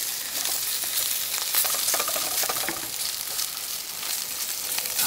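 Marinated Spam sears in hot oil in a pan at a camp cooking setup, giving a steady, dense close-up sizzle with crackling pops throughout, no voices.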